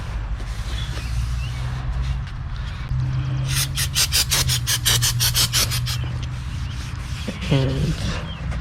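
A rag wiping a front brake part during a pad and rotor job on a 2016-2021 Chevrolet Malibu, making a burst of brisk rubbing strokes in quick rhythm close by, set against a low background hum, followed by a brief clink.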